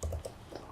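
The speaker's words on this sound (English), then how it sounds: "typing my password" A password is typed on a computer keyboard, a few faint, uneven key clicks close by in an otherwise quiet room.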